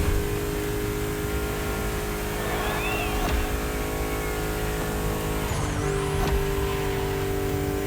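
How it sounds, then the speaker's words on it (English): A turbocharged car engine in The Crew Motorfest racing game, heard from the first-person view, drones loud and steady with tonal engine harmonics, while a thin turbo whistle sweeps up and down near the end. "Love hearing those turbos"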